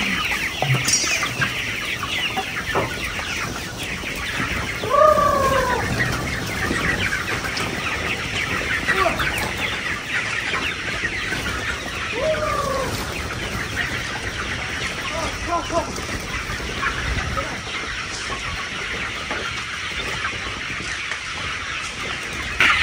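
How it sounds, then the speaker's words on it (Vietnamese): Hungry 45-day-old farm chickens cluck and chirp in repeated short calls amid steady background noise, with occasional louder squawks close by. "À, con gà mình nó đang rất đói."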